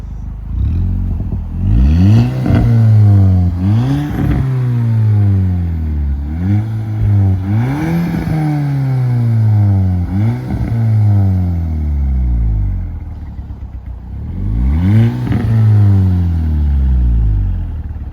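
An Audi S3 engine revs repeatedly outside, each rise climbing sharply in pitch and then falling back, about six loud, close rev cycles with brief idle gaps between them.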